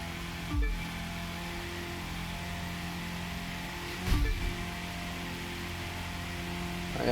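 A car in The Crew 2 racing game holds a steady high-speed engine drone on a straight, with two brief low thumps, no talk over it.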